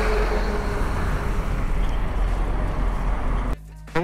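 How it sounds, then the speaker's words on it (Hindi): Heavy highway traffic rumbles steadily and loudly, a dense continuous roar of passing vehicles that drops away abruptly near the end. "इस हाईवे पर ट्रैफिक तो बहुत है।"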